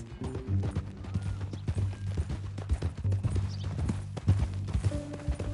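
A horse's hooves clip-clop in a steady, close, even rhythm in the Red Dead Redemption 2 video game. A low musical drone sits under the hoofbeats.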